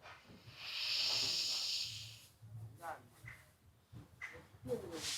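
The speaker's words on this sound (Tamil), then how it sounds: "வலது நாசியை மூடிட்டு இடது நாசி வழியாக இழுக்க போகிறோம்" A steady nasal inhale through the left nostril during yoga breathing, one long soft hiss lasting about a second, followed by quieter scattered breath and rustling noises.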